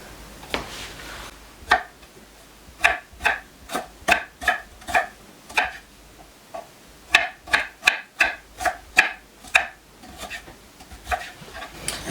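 Fresh ginger being minced with a knife for ginger cookies, a series of crisp, close chopping taps against a cutting board in quick irregular bursts with short pauses between, no talking.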